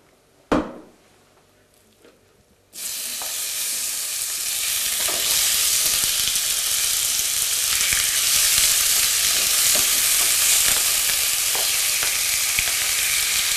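Meat for Spanish fricco drops into hot oil with a short clatter, then a loud, steady close sizzle and frying hiss fills the rest.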